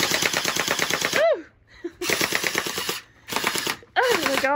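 A gel blaster toy gun fires in three loud, buzzing full-auto bursts. Each burst has a whirring motor tone that winds down between bursts.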